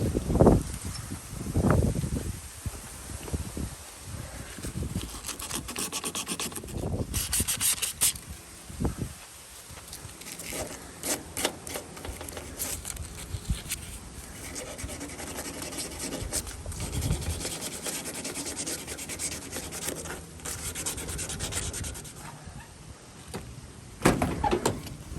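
Intermittent scraping and rubbing of a brush or pad against metal electrical door lock contacts on a T1N Sprinter van, with scattered clicks and handling knocks, close by and uneven in rhythm.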